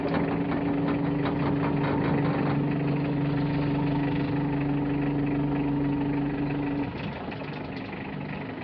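A pickup dump truck engine idles steadily up close with a constant low drone and hum, its tone dropping slightly near the end.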